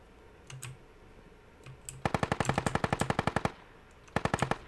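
Rapid bursts of automatic gunfire in a first-person shooter video game, a few scattered shots and then two loud, fast machine-gun strings with no talk over them.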